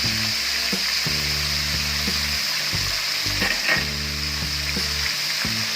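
Chicken for a zinger burger frying in a pan over medium heat, a steady loud sizzle with occasional scraping and clinks from a utensil, with no talking.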